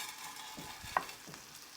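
Ground beef frying in a pan while being stirred, with soft scraping strokes and a low sizzle, one sharper clink near the middle, quiet and close.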